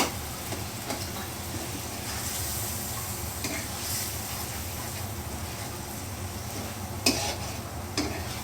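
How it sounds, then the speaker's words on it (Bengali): Fish sizzle and fry in a spice paste in a pan, a steady soft crackle with occasional stirring clicks and scrapes, fairly quiet. "এখন আমি মাছগুলো অ্যাড করব একে একে"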